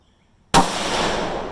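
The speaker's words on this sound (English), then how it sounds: "Woo, I got some recoil there." A single loud shot from a Ruger 6.5 Grendel rifle loaded with 30 grains of Alliant Power Pro 2000 behind a Barnes 140 gr match bullet cracks out of silence and trails off in a long, rolling outdoor echo.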